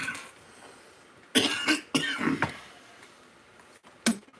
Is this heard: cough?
yes